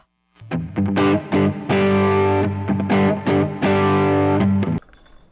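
Electric guitar played through an amp sim and cab sim with a touch of reverb, giving distorted, sustained chords and riffs that ring loud and close, then cut off abruptly near the end.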